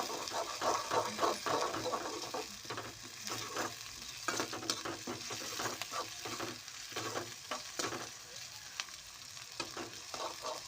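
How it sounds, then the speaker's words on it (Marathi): Onion sizzles in a pan while it is fried for homemade Manchurian. Close, irregular scraping strokes from stirring break over the crackle. "छानपैकी असं कांदा भाजून घ्यायचा."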